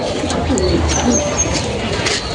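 Madras pigeons coo in low, soft bursts close by, with faint chirps higher up and a busy loft murmur steady underneath through the short stretch.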